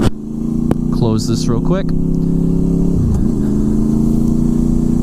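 Honda VFR800 V-TEC motorcycle engine idling then pulling away smoothly in first gear, a steady close engine drone with a brief dip as it takes off, while a person talks over the start.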